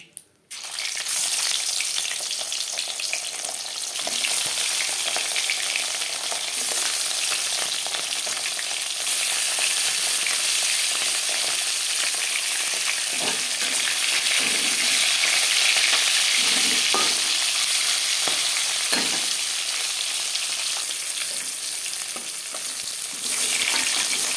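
Bhangar fish pieces fry in oil in a wok, a loud continuous sizzle and crackle that holds steady the whole time, with occasional stirring scrapes and no voices.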